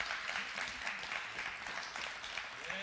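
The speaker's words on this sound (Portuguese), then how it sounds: "Ele merecia uma salva de palmas" A congregation applauds Jesus during a sermon; dense, even clapping fills the room from start to finish at a moderate, distant level.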